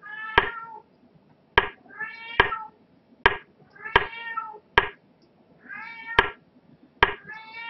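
A cat meows repeatedly and insistently, each call drawn out and close by, separated by sharp knocking or tapping sounds in a regular rhythm.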